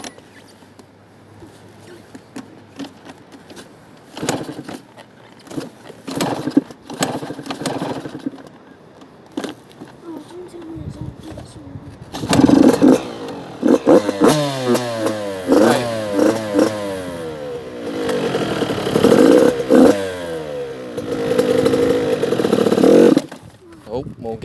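An 85cc dirt bike engine is kicked over with a few sharp thumps, then catches and revs in rising, wavering bursts, loud and close, while people talk over it.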